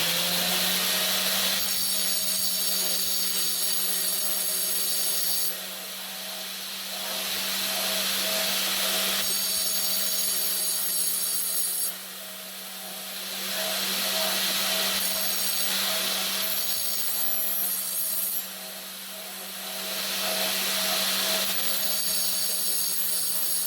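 Yellow Jacket stump grinder teeth being sharpened with a power tool, a loud, steady high grinding rasp that comes in several long passes separated by brief drops while the motor keeps humming.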